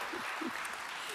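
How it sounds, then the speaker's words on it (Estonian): Audience applause at a political party event in Estonia, a brief burst of crowd clapping that is steady and fairly full throughout, with faint voices mixed in. "Aplausiga."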